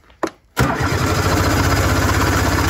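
An Arctic Cat EXT 580 snowmobile engine cranks in a short burst, pauses, then catches and settles into a loud, steady idle up close.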